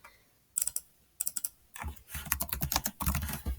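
Bursts of typing on a computer keyboard, clustered key clicks in quick runs separated by short pauses, fairly close and clear with no talking over them.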